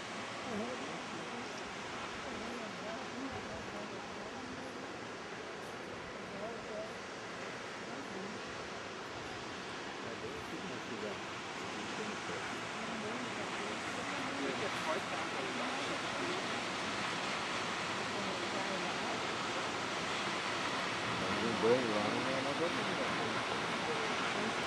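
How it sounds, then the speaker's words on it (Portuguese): Waterfall at Caracol Park in Canela, Brazil, a continuous soft rushing roar heard from a distance that grows slightly louder toward the end, with faint voices nearby. "Cachoeira."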